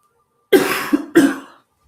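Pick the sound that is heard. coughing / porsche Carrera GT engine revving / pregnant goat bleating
coughing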